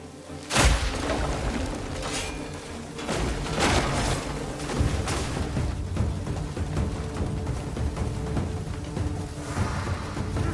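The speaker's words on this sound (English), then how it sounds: "Then the cannons would blow them up." Cannon fire from the video game Crimson Desert sets off a series of booming explosions. Heavy thuds and bursts recur irregularly over a continuous low rumble of battle noise.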